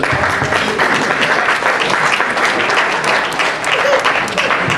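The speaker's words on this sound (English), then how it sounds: "Maybe a little round of applause for ourselves." A group at a graduation celebration breaks into loud, continuous applause that fills the room evenly from start to finish, with faint voices mixed in.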